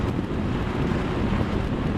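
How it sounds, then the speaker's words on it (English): Strong, steady wind buffets the microphone on a motorcycle ride, a dense continuous roar low and loud throughout with no pauses or speech. "Oh, I think the wind has gotten worse."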